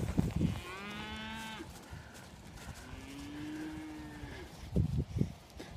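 Calves mooing on a newly opened pasture in the evening, two long drawn-out bellows with rising harmonic tones, moderately close, over faint background rumble and a few soft thumps.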